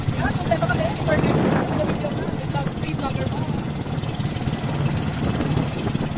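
Strong wind roars and buffets steadily across the whole clip, with a person speaking briefly underneath, on a boat at sea off Bulata Beach, Cauayan, Negros Occidental.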